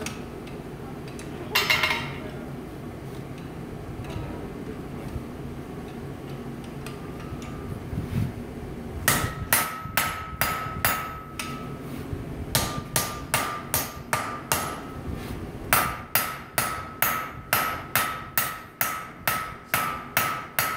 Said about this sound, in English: Hammer, hammer blow, hammer blow, hammer blow, like a wave.